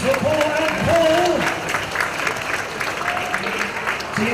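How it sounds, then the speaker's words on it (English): Audience applause at a PLAY Expo 2015 convention stage talk, a steady wash of clapping across the whole stretch, with a voice talking over it. "Another round of applause, please, for Paul and Paul."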